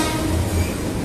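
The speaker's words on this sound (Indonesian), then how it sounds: "Jalur 2 masuk KRL tujuan akhir stasiun Bogor ini." KRL commuter train bound for Bogor rolls into track 2 at Depok Baru station at night, a steady, loud low rumble of wheels and carriages running close by without pause.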